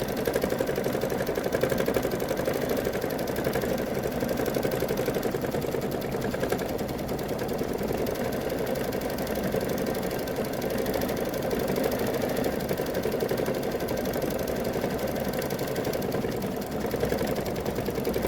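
A sewing machine quilts a stained glass quilt with an even, rapid mechanical whir held at a steady level for a long stretch, close and alone without talk.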